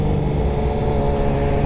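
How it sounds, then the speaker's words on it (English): Motorcycle exhaust on a newly revealed bike, a loud, steady engine drone held close throughout with no break and no voices. "It is pretty loud, I'm not gonna lie with you. And especially when you engine brake, it sounds so good."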